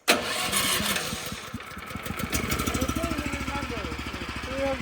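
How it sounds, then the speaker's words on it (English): The motor on seed planting equipment starts up nearby, a rapid sputtering catch that settles into an even, chugging idle. People talk briefly in the background. "I will start the motor."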